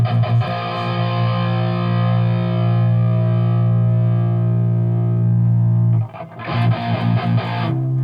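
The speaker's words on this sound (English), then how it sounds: "Now I'm going to slowly dial in the Mimiq, and you'll hear how it changes." An electric guitar plays through a Mimiq doubler pedal for a wide stereo sound, a loud sustained chord ringing for several seconds before a brief gap and a few fresh strums.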